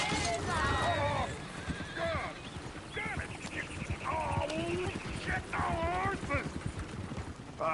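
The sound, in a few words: horse neighing and hooves, from Red Dead Redemption 2 video game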